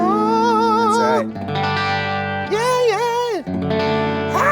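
Electric guitar played through a Strymon Flint reverb pedal, sustained chords and bending notes washing into a long, lush reverb tail, loud and close with no talking.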